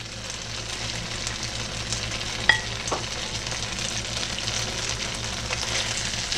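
Vegetables and shrimp stir-fry in a hot pan for ramen noodles, a steady close sizzle with scraping stirs and a couple of sharp clinks of a utensil against the pan, with no talking.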